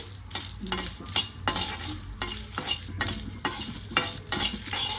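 Dried red chillies and cumin frying on low heat in a pan, a soft sizzle broken by rhythmic stirring scrapes and light clinks of a spoon against metal, recurring every half second or so.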